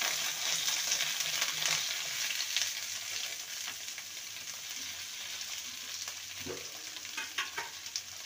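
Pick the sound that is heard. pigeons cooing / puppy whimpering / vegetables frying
vegetables frying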